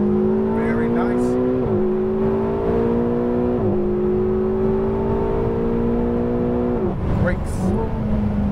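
A Ferrari 488 GTB engine drones steadily, rising in pitch as it accelerates out of a corner, with brief dips between gear changes and road noise underneath.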